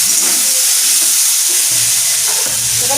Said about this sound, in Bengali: একটু লঙ্কা গুঁড়ো দিলাম, খুব ভালো করে কষিয়ে নিয়েছি।